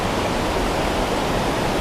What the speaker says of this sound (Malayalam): അങ്ങനെ നമ്മൾ വെള്ളച്ചാട്ടത്തിനടുത്തേക്ക് എത്തി.